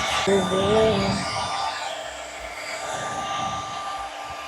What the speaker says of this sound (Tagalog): Hindi naman siya yung blower na mainit.